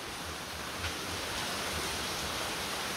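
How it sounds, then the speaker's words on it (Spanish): Water begins to run, a steady broadband rush like a stream or small waterfall, continuous and fairly close with no pauses. "Ya empezó a correr el agua"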